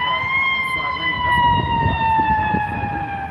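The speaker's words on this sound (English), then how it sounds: "Siren. Oh, that's where they came from." An emergency vehicle siren wails loud and steady for the whole stretch as the vehicle passes, its tone gliding slightly downward, with a crowd murmuring beneath it on a Chicago street.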